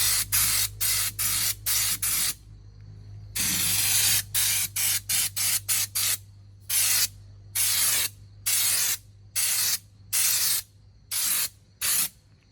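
Raptor liner coating sprayed onto a 2003 Ford Mustang, heard as loud, hissing bursts of spray-gun spray in a steady on-off rhythm, some short and some longer, with brief silent gaps between them.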